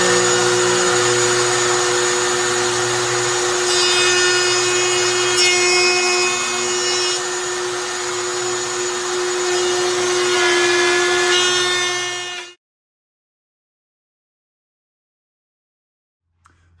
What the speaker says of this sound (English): I'm going to use a jig fixture along with a hand router that's fitted with a straight bit